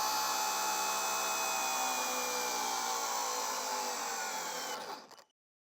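An 18 volt Makita cordless mini chainsaw with a 5 amp hour battery runs at a high, steady whine close by, then winds down and stops near the end.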